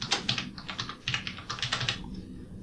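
Someone types a password on a computer keyboard in quick bursts of clicking keystrokes, close and quiet, with short pauses between runs and no speech.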